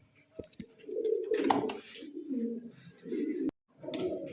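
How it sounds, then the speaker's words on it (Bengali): Satin pigeons in a coop give low, rolling coos that repeat several times, close and moderately loud, with a few flutters and thumps between calls. "এখানে সুপার কটে একজোড়া ঝর্ণা শাটিন কবুতর আছে"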